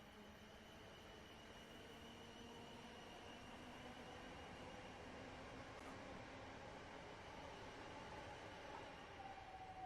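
A train pulls into Havant station, its steady broadband rumble and faint squeal holding at a constant loud level throughout with no talk.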